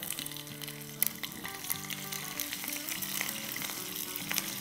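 Spices crackling in hot oil as a tempering for Gujarati khaman dhokla: a continuous close sizzle with scattered sharp pops, steady throughout, over a soft tonal backing and with no voices.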